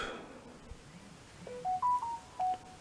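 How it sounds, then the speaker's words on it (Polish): A phone chimes a short rising-and-falling sequence of clear electronic tones, a work notification going off indoors in a quiet room after faint handling noises. "Jakieś powiadomienie z pracy."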